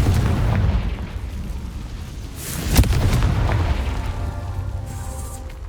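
Confringo explosive spell from Hogwarts Legacy gameplay: a single sharp blast bursts out near the middle, its booming tail rolling over a steady low game rumble and ambience.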